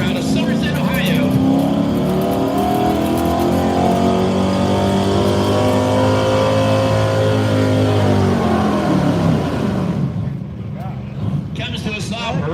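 A street stock gas pickup truck roars at full throttle at a truck pull, its engine a steady loud drone that holds high, then cuts off near the end. An announcer talks over it throughout.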